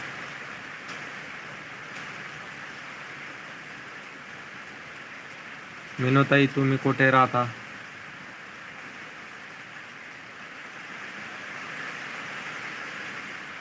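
Heavy rain in Khultabad keeps up a soft, constant hiss throughout, while someone speaks briefly in the middle over the downpour.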